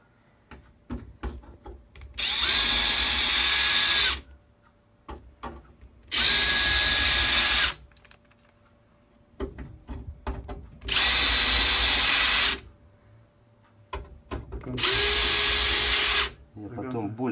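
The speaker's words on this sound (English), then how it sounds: "So now we countersink all holes except this one near center." A power drill countersinks holes in the LED backlight strip of an LG 50UM6900PUA TV, running in four loud, steady bursts of about two seconds each, separated by quieter handling clicks and brief talk.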